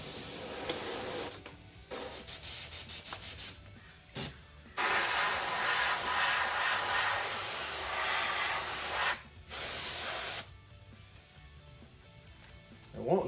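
Aerosol paint hisses in long bursts onto a Proline body shell for a Traxxas UDR truck, close and loud, broken by short pauses and a rapid stuttering run of quick taps early on.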